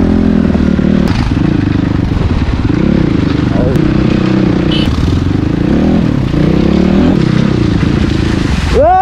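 A motorcycle riding along a village road in the Myagdi hills, its engine droning loud and close throughout with rattling clatter and bumps, while people talk over it.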